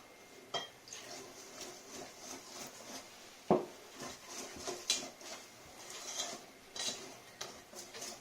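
Lemon cake batter stirred in a bowl, a spoon scraping and knocking against the sides in soft, irregular strokes, with one sharper clack partway through.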